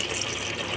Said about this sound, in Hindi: अब पानी डाल देती हूँ।